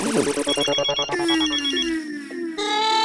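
A phone ringtone plays loud and close, a repeating electronic melody that shifts pattern partway through and keeps ringing without pause.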